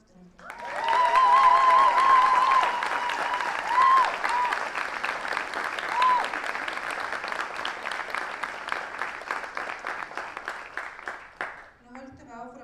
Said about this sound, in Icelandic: Nú mögum við klappa fyrir henni aftur